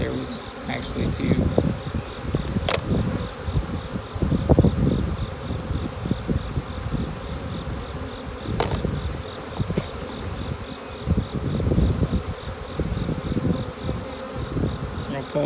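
Buzzing of a honeybee swarm being moved between boxes, a steady dense insect drone running through the whole stretch with scattered nearby knocks and rustles, no talking.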